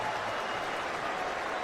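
Portland arena crowd at an NBA game between the Thunder and Trail Blazers, a brief dense wash of cheering and applause, steady and fairly loud, heard from a distance without distinct voices.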